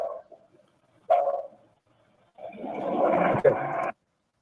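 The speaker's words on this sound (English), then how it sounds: "So at 38, a dog bark, and 41," A dog barks in a nighttime outdoor recording, one sharp bark followed later by a longer, rougher burst of barking, moderately loud against near silence.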